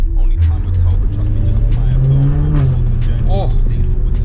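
A BMW M3 with its exhaust valves open drives through traffic, its engine note a loud, steady drone with rising and falling pitch. No one speaks.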